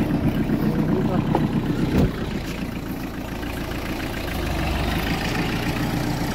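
A Farmtrac 35 mini tractor engine runs steadily at a low, rumbling idle nearby, with a brief clunk around the two-second mark and a slight rise in the engine note toward the end.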